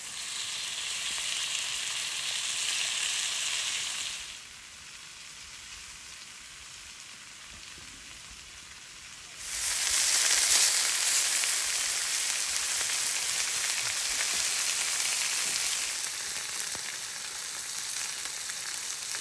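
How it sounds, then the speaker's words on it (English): Lamb slices sizzle on a hot stone at an outdoor wilderness cooking spot high in the mountains. The frying hiss is steady, drops quieter for a few seconds, then returns louder and fuller, with no talking. "I cleared a spot on the stone, sizzled the lamb slices."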